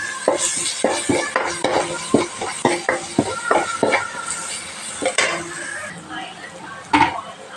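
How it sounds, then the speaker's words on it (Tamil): Curry leaves and coriander stems sauté in a pan with browned ingredients for a trotter curry, as a metal spatula clatters and scrapes in quick rhythmic strokes over a light sizzle. "இந்த அளவு வதங்கினா போதும் இப்போ வந்து கருவேப்பிலை கொத்தமல்லி தலை சேர்த்திடுறேன்"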